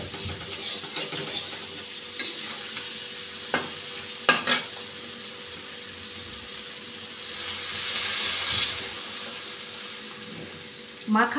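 A spice mix fries with green beans in a pan, giving a low, steady sizzle with scattered scrapes and knocks of stirring and a brief rush of water-like hiss near the end.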